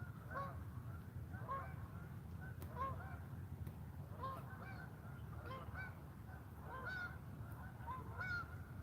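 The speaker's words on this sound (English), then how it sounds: "That was the geese." Geese honk repeatedly in the distance at sunrise by the water, faint calls spread through the whole stretch over a low steady background rumble.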